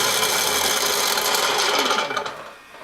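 An apartment garbage disposal runs under a kitchen sink with something jammed inside it. It gives a loud, steady grinding whir that holds for over two seconds, then fades down as it winds off.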